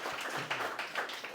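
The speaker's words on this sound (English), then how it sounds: "give a round of applause for Thyme Bar" Brief patter of applause at a New York hospitality industry gathering, a scattered round of clapping from a small crowd, moderately near and short.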